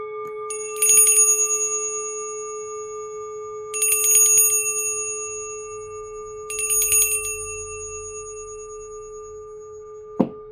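A bell rings three times at even intervals, each strike bright and shimmering over a steady tonal hum, with a short sharp knock near the end.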